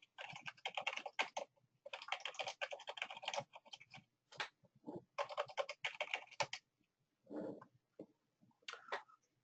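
Fast typing on a computer keyboard while entering a username and password at a login page, rapid clattering key bursts with short pauses between them, close and fairly quiet.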